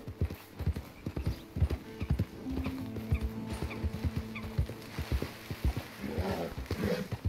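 A horse gallops in a video game, rapid rhythmic hoofbeats thudding close and steady throughout, with a faint whinny and a quiet background music line.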